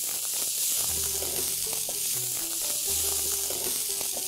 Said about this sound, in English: We just have to stir fry it for 1 or 2 minutes.